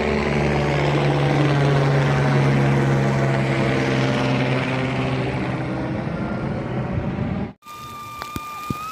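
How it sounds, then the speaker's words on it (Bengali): A helicopter near the Gulmarg helipad in Kashmir makes a loud, steady whirring drone for about seven seconds, then cuts off abruptly into near silence with a couple of faint clicks. "ওই দিকটা হলো হেলিপ্যাড, হেলিকপ্টার করেও এ ওপরে ওঠা যায়।"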